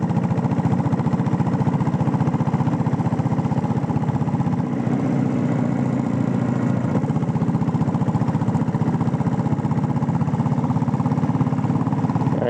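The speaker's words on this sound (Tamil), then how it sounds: "எல்லாம் வந்து பார்த்தீங்கன்னா சைலன்சர் பீட்டு தான்." A restored diesel Royal Enfield Bullet idles steadily, its silencer giving an even, continuous exhaust beat throughout, close up with no talk.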